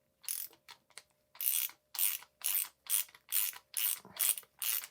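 A ratchet socket wrench clicks through repeated strokes on a 13 mm fitting while servicing a Rockshox Super Deluxe RC3 rear shock. The sharp clicking bursts come close and loud in an even rhythm, about ten of them.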